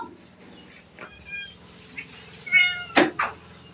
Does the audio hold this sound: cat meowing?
yes